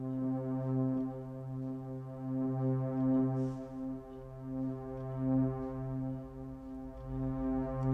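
A sustained, buzzy Deluge synthesizer tone holds one pitch while an LFO swells and dips its volume in a slow, uneven pulsing pattern.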